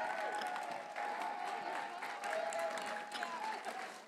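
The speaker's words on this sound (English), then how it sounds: "please give them your biggest round of applause" Audience applause for the staff volunteers at the closing ceremonies of Ponyville Cider Fest 2021, steady, moderately distant clapping from a crowd with a faint sustained tone running underneath.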